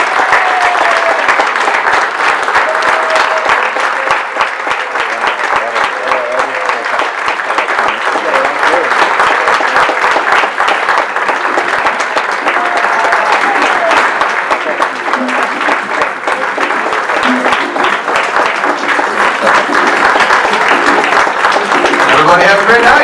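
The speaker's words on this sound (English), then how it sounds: "give them a big round of applause" A city council candidate debate audience gives a sustained round of applause at the close of the event, dense steady clapping filling the room for over twenty seconds.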